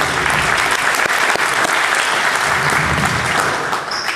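Steady, dense applause from an audience at a basketball coaching clinic, holding evenly at full strength for the whole stretch with no break.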